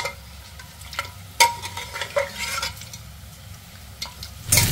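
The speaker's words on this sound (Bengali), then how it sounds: "পেঁয়াজ লাল লাল করে ভাজা হয়ে গেছে, এর মধ্যে আগে মাংসটা দিয়ে দেবো।" Onions fried until red are stirred in a pan, a crackling sizzle with irregular scrapes and knocks of a spoon against metal, close and fairly quiet, with a louder clatter at the end.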